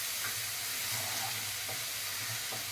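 Prawn masala with spices frying in a pan for an Andhra-style raw masala prawn curry, a steady close sizzle with faint stirring scrapes running throughout, no talk.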